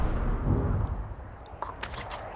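A lava launcher in the video game Outer Wilds fires with a deep, rumbling low boom that fades over a second or so, followed by a few faint, brief crackling bursts.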